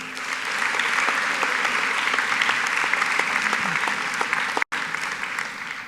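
Audience applause at a white coat ceremony, a sustained, dense, fairly loud wash of clapping that runs steadily throughout with a brief dropout near the end.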